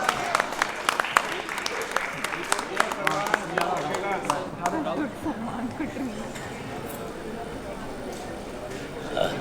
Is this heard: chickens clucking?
no